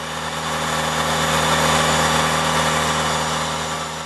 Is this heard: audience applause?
no